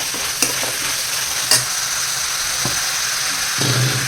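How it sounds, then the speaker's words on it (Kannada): Ground green chilli and garlic masala goes into a sizzling tempering for a green gram and greens dish, a loud, dense, continuous hiss of frying with a few sharp clinks of the utensil. "ಹಸಿಮೆಣಸಿನಕಾಯಿ ಬೆಳ್ಳುಳ್ಳಿ ಮಸಾಲೆ ಅದು ಹಾಕ್ತೀನಿ"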